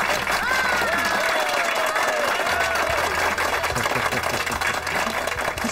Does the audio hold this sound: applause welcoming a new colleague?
yes